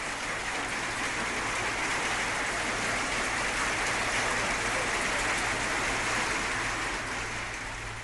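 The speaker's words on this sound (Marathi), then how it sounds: "इथे काही तास पाऊस झाला आणि त्यातही गारांचा पाऊस झाला जबरदस्त वारासुद्धा वाहत होता" Heavy rain with hail and strong wind pours down in a dense, unbroken hiss with a low rumble underneath, steady and loud throughout, with no voices.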